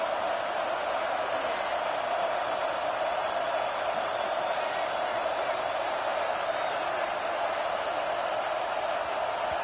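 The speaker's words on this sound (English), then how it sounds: "Listen to the crowd energy here in the early going." A stadium crowd at a Florida vs Auburn college football game keeps up a dense, steady roar, loud and unbroken throughout.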